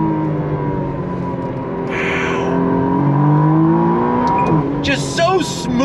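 A 2025 McLaren Artura Spider, a rear-wheel-drive supercar, accelerates hard on throttle, its engine note climbing steadily and loudly from inside the cabin before a quick shift and a rising whine near the end.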